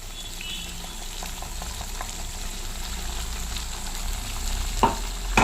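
Tomato masala paste hitting eggplant frying in a pan, a continuous close sizzle and bubbling with a few stirring knocks near the end and no voices.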